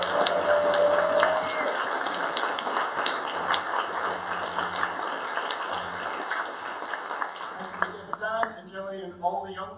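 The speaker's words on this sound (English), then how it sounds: "Can we give them a huge round of applause?" A crowd at a Scottish Green Party conference closing session applauds the event volunteers with a broad, sustained wash of clapping under a steady hum, fading slightly before a voice begins near the end.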